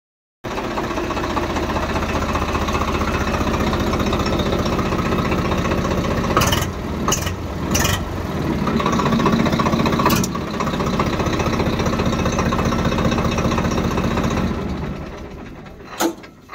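A model 855 tractor engine runs steadily for about fourteen seconds with a dense, continuous mechanical drone. A few brief clanks break in along the way, then the engine fades toward the end.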